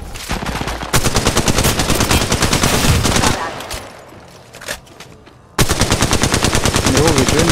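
Rapid automatic gunfire in a ranked first-person shooter match, loud and close, comes in long sustained bursts, breaks off into a quieter stretch with a stray thud, then resumes at full rate.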